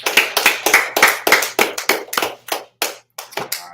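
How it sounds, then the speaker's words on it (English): Separate, sharp hand claps from a small group at a scripture study gathering, about a dozen strikes in an uneven, fading rhythm, close and fairly loud, with no talking. "All right, clap it up."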